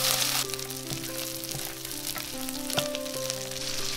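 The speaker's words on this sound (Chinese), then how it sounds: "要小火慢慢煎，煎到这个虾壳酥脆，虾油逼出来" Shrimp frying in plenty of hot oil in a flat pan over low heat, an even close sizzle with light crackles beneath steady tonal hum, no talk.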